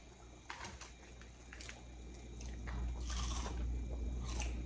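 Crunchy pizza roll bitten and chewed close up, a steady crackling crunch that grows louder over several seconds, with a low background hum and no talking.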